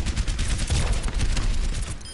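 Gunfire in a video game shootout: a loud, close volley of rapid shots packed into a continuous rattling barrage, with no speech over it.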